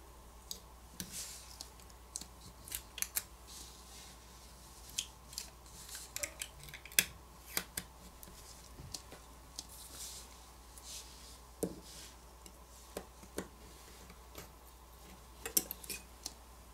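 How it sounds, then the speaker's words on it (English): Protective tape peeled from a Samsung Galaxy S10+ phone during a teardown, heard as a scatter of faint, close clicks and small crackles over a steady low hum, no talking. "I'm going to peel off this protective tape right here."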